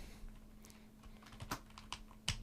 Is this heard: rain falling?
no